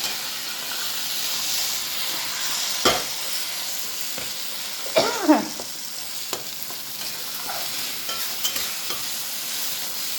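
Taro leaves cooking with a hilsa fish head hiss and sizzle steadily in a hot pan, broken by a few louder scraping stirs of the spoon. No one speaks.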